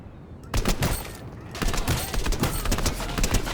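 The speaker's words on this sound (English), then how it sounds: "this is a striker burst rifle" Rapid bursts of gunfire from a striker burst rifle in Fortnite, loud and close, with repeated sharp shots after a brief opening pause and a short gap near the middle.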